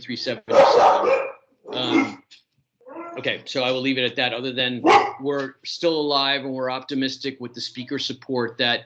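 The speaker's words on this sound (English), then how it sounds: "sorry about the dogs" Dogs bark in short bursts near the start of an online monthly meeting call, then a person speaks steadily for the rest of the stretch.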